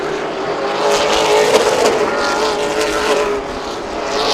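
Race cars running single file down the back straightaway at Birch Run Speedway, a loud, continuous engine roar with a rising and falling pitch as the cars pass close by.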